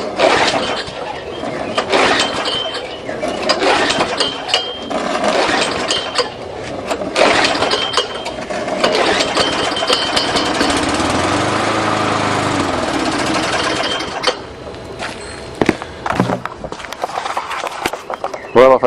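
A flooded Tecumseh lawn mower engine is cranked and sputters, then runs in uneven bursts of high buzzing that surge and fade, close by, with a voice speaking at times.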